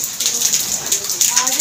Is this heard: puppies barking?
no